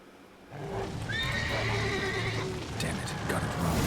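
A horse in The Witcher 3 gives a loud whinny that rises and trails off, with hoof clops and a low rumble underneath and a second shorter neigh near the end.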